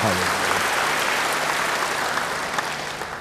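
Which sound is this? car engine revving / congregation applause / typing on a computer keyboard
congregation applause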